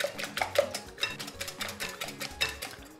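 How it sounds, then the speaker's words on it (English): Eggs are whisked in a bowl, a steady run of quick light clinks and taps from the whisk against the bowl, close and fairly quiet with no talking. "The next thing will be to break in 4 eggs. That's 4. And I'll whisk."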